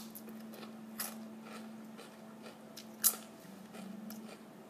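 A Lays Sour Cream & Onion potato chip is bitten and chewed up close, giving a few soft crunches and one sharp, crisp snap partway through over a faint steady hum.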